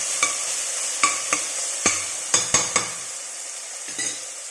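Spinach frying in a pan with a soft sizzle underneath, punctuated by about eight sharp metallic clinks and scrapes of a spoon stirring against the pan, with no talking.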